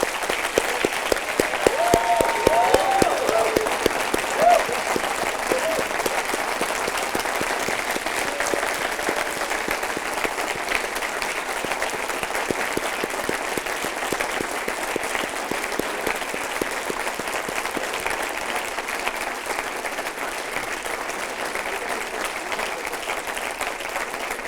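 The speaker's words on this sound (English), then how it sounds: "Round of applause to you" A graduation ceremony audience at an MBA commencement breaks into sustained applause, steady dense clapping from a large crowd that continues evenly throughout with no talk over it.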